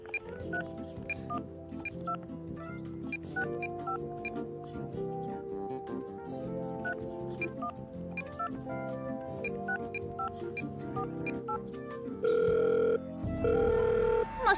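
In a Shopkins cartoon, a telephone sounds as a long-distance call comes through. Bouncy background music plays throughout, and two loud, sustained electronic phone tones ring out near the end.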